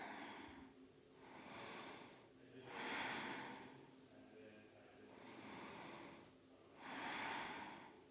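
Slow, deep breathing during a yoga hip stretch, long airy inhales and exhales in a steady cycle of about four breaths, close and soft.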